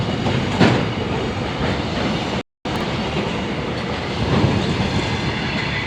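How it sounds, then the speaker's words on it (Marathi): A long train passes on the tracks, a continuous rolling rumble with rhythmic clickety-clack and faint wheel squeal, close and steady, briefly cut by a short silent gap. "संपली बघा एवढी मोठी रेल्वे होती"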